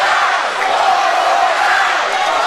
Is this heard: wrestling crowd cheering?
yes